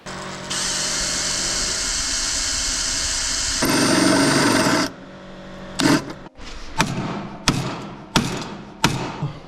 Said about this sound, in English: just drilled out the spot welds, beat it with a hammer